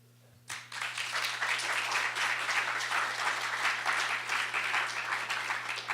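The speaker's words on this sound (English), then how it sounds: "just another quick round of applause for the speakers" Audience applause for the speakers at a criminal justice event in New York City, starting abruptly after a brief quiet and holding as dense, steady clapping from a crowd, with a low electrical hum underneath.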